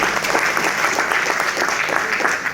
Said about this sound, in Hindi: तो उन लोगों के लिए भी जोरदार ताली होनी चाहिए।